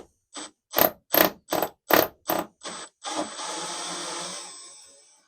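A cheap power tool from TikTok Shop unscrews screws from plywood panelling inside a van, giving seven short loud whirring bursts in a quick rhythm and then one longer continuous grinding whir that fades out.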